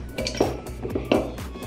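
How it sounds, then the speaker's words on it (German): Ice cubes drop into a cup for a pink drink, giving several light clinks and knocks in an irregular patter, close and fairly quiet. "So, als erstes kommen Eiswürfel rein."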